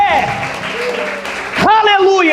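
Congregation clapping during an evening church service, a moderate spread of applause beneath a voice that talks loudly over it and then rises into a louder exclamation toward the end.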